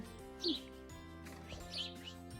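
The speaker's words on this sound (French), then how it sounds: "the bird." Birds chirp outdoors at a quiet overnight campsite on a cross-Canada road trip. Two short, high chirps sound faint and distant over a low, steady background hum.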